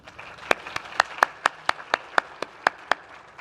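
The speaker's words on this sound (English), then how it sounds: "I'd like you to please give everyone a round of applause if you would." Sparse, rhythmic clapping at a research community conference, single sharp claps about every quarter second, close and fairly loud, sounding more like one or a few people than a full audience.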